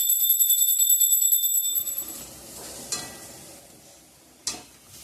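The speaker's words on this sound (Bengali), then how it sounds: "আলু ভাজাটা হয়ে গেছে, নামিয়ে নেব।" Potatoes fry in a pan at home and get a few spatula stirs, with a soft sizzle, a high ringing tone fading early and two sharp scraping knocks, heard close with no talk.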